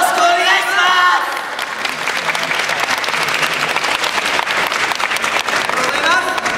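A crowd at the Kobe Yosakoi 2014 dance festival, Duo Kobe venue, claps loudly and densely along with the dancers. A brief voice is heard at the very start before the sustained applause takes over.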